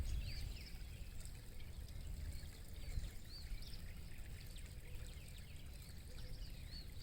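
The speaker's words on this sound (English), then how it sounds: "let you just enjoy the sound of the water." Creek water flows and trickles steadily over a soft broadband rush, with scattered bird chirps above it; quiet and continuous throughout.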